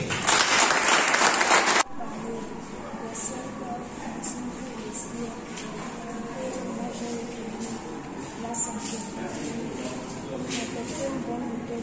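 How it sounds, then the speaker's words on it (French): Applause at a conference-debate fills the opening seconds with dense clapping, then cuts off into a steady murmur of room noise and voices. "Donc vous aussi, applaudissez pour le Père Paul."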